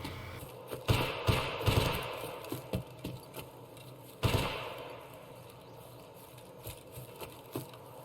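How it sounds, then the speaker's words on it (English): Scattered gunshots in the game Escape From Tarkov on the Woods map, some in quick bursts and others single, popping at a middle distance over a quiet background, with two louder blasts standing out. "I'm trying to look around to see where that gunfire is coming from."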